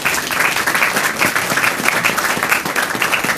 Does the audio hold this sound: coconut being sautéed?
no